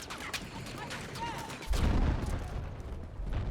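Gunfire in the video game Battlefield 6, a loud burst of shots and a heavy low boom swelling midway and continuing as a dense, rumbling fusillade, with faint voices underneath.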